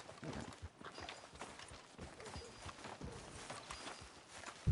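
Horse hooves walking in Red Dead Redemption 2, a quiet steady clip-clop under a wash of ambient game noise, with no talking.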